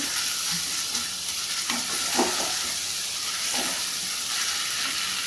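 Capsicum pulao ingredients sauté in a pan with a loud, steady sizzle, and occasional scraping stirs rise above the frying hiss.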